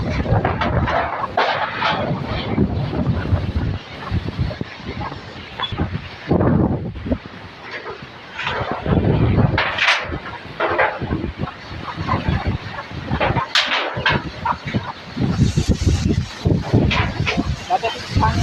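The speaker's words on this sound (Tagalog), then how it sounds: "Grabe kusog sa hangin." Strong outdoor wind roars steadily across a windy yard, buffeting the microphone with loud gusts while a person talks over it and a dog barks now and then.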